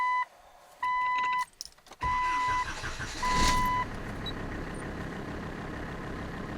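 A Mercedes OM617 five-cylinder diesel swapped into a Jeep Cherokee is cranked while dash warning chimes beep, then catches and settles into a steady, moderately loud idle heard from nearby.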